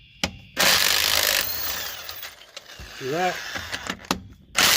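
A rusted lug nut is worked loose on a car wheel during a winter tire changeover, giving short mechanical creaks and squeaks with a rising metallic whine among loud clunks and rustling handling, while someone briefly speaks.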